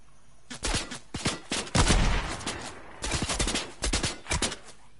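Gunfire in a video game 1v1 match: several quick bursts of sharp, loud shots separated by brief pauses, forming an uneven stop-start rhythm.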